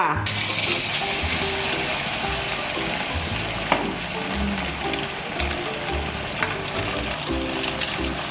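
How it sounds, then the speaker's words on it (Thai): Pieces of fish-sauce pork fry in hot oil, a bright, crackling sizzle that runs unbroken at close range, with occasional clinks and a faint background voice. "ทอดหมู หมูทอดน้ำปลา"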